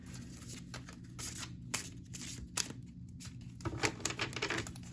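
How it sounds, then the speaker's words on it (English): Large oracle cards being shuffled by hand, giving repeated soft papery riffles and slaps at close range under a steady low background hum, with no talking. "these cards are a little bit bigger, so they have to kind of shuffle them a little differently"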